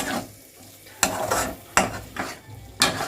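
Tomatoes frying in a pan for a banana curry, sizzling softly as a spatula scrapes and turns them in three or four sharp, close strokes with hissing bursts between.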